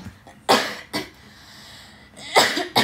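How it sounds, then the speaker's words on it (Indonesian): Several sharp coughs in a live stream, a pair near the start and another pair near the end, loud and close with quiet in between. "Mau batuk."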